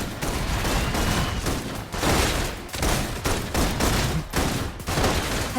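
Sustained suppressive gunfire in the video game Homecoming Wings, dense rapid bursts of automatic fire with brief gaps, loud and close, no talk.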